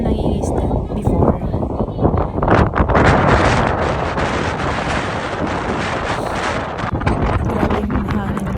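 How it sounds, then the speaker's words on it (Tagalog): Strong wind at the sea buffets the microphone with loud, gusty rumbling, while voices talk underneath. "Grabe yung hangin guys."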